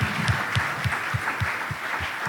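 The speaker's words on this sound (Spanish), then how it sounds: "No sé si les gustaría darle un aplauso al Señor" A church congregation applauds during a sermon, a dense wash of many hands clapping at an even pace, moderately loud and close, with no talking.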